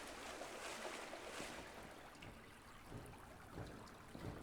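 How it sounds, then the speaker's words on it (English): Water running inside a cave in a survival video game, a steady soft wash of flowing water at moderate distance, fairly quiet and continuous with no talking. "there's water running somewhere nearby"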